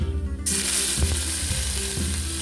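Crushed shallots, ginger and garlic hit hot oil for a rasam, setting off a sudden loud, steady sizzle with a few soft stirring knocks underneath.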